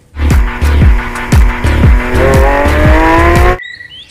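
Toy Lamborghini race car producing a rapid series of revving, skidding engine bursts with tire-squeal effects, loud and close, repeating roughly twice a second before cutting off abruptly.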